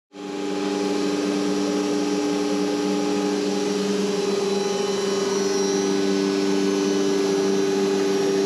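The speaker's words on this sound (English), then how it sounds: "I'm going to turn on the dust collector and then turn on the spindle and start." A steady, loud CNC spindle whine with strong tonal hum starts abruptly and holds constant, running alongside vacuum and dust-collector roar.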